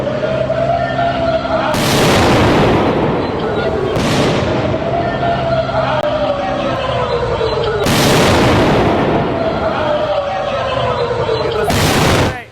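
Several heavy explosions in Israel burst out one after another, each a broad loud blast over a constant droning tone and steady rumble, with a voice talking throughout.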